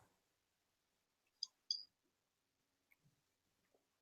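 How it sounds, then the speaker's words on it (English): Sparse, faint clicks come through a video call's open line: a few isolated taps scattered over a few seconds of near silence, with one sharper click at the very end. "I can kind of hear some like clicking around."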